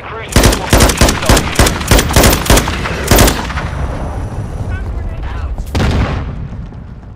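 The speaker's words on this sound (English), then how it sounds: "Friendly cruise missile." Heavy gunfire and booming explosions from a cruise missile strike in Call of Duty: Modern Warfare II, loud rapid bursts at first, then a rumbling roar with another blast near the end.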